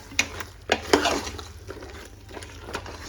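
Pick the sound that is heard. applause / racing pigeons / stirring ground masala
stirring ground masala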